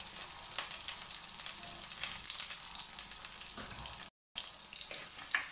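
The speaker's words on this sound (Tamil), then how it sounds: "வெங்காயம் கொஞ்சம் வதங்கட்டும்" Onions sauté in a clay pot for a village-style dry fish curry, giving a continuous close hiss and sizzle with faint scraping, briefly cut to silence for a moment before resuming, and no one talking.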